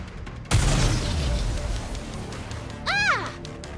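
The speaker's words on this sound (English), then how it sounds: "They appear to be homemade. The explosions aren't stable." Explosions in the shooter game Goddess of Victory NIKKE, a sharp blast that decays into rumbling debris, followed later by a short burst of rising and falling synthetic tones.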